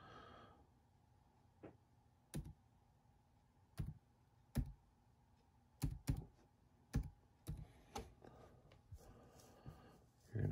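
Data being typed on a computer keyboard, heard as sparse, quiet key clicks in short bursts of one to three strokes separated by pauses, with no talking.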